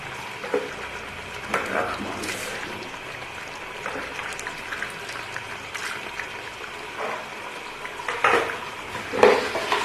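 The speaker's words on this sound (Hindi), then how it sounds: "इसको अच्छे तरीके से भून लूंगी।" Tender mutton frying in oil in a pot during masala cooking, a soft steady sizzle with scattered scraping and clinking of a spoon against the pot, close by and moderately quiet.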